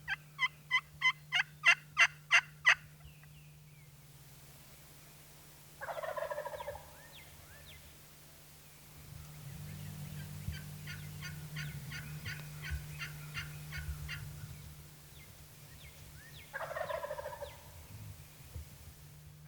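Wild turkey gobbling at dawn, with a rapid train of rattling gobbles followed by several shorter gobbles and faint distant answers, over a steady low hum.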